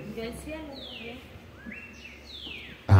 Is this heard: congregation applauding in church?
no